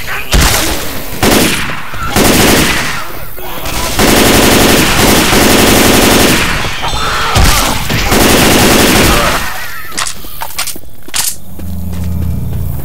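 Sustained bursts of automatic gunfire with incendiary ammo in Left 4 Dead 2, loud, rapid rattling volleys broken by short pauses, with scattered single shots toward the end.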